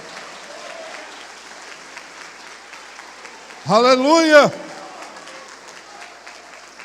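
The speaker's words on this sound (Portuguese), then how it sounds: "Você pode aplaudir a ele ou não pode?" Congregation clapping during a church sermon, a thin, continuous patter that carries on underneath and around a single loud, shouted exclamation from one voice midway.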